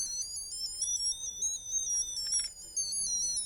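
A Hot Wheels Bomb Squad toy car with a dying battery gives a continuous high electronic beeping siren that wavers steadily throughout, near and fairly loud, with no talk.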